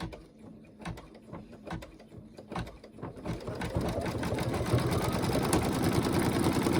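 Mechanical clatter of an embroidery machine stitching through two layers of vinyl, starting with scattered clicks and thumps, then building into a fast, steady rattling hum that continues to the end.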